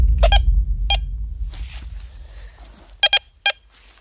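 Metal detector beeping in ruins outdoors: a few short sharp bleeps, then a quick double beep and another single beep, close and clear over low rumbling handling noise.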